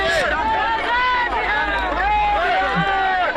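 Large village crowd gathered to meet Prashant Kishor: dense overlapping voices and chatter close around, a continuous busy babble of many people talking at once.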